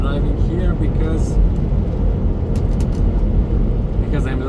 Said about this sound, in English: Engine brake is on at full power.